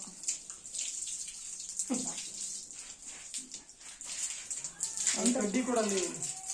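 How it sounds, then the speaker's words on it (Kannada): Water splashes over a cow being washed in a cowshed, a steady wet spray running throughout, with people talking over it and a louder burst of splashing near the end. "ನೀರು ಹಾಕಿ ನೆನೆಸ್ತಿದ್ದಾರೆ ದನನ"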